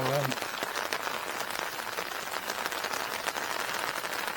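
Steady broadband rain patters on an umbrella held overhead outdoors by a car park pool, a dense continuous hiss close by, with a brief voice fragment at the very start.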